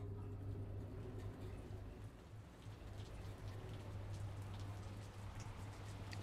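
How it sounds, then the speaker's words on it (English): Steady rain falls in a video game, a dense continuous patter of drops with a low hum running underneath, holding even in level with no voices for the whole stretch. "It's raining."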